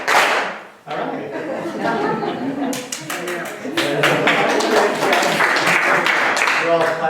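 An audience applauds with steady, dense clapping that grows fuller and louder toward the end, mixed with speech and light chuckling.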